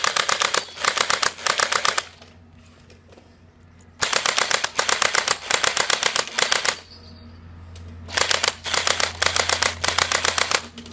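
A toy Scar-L gel ball blaster fires loud rapid bursts of sharp snapping shots at close range, three long volleys separated by pauses where a quieter motor hum and faint handling noise remain, no speech.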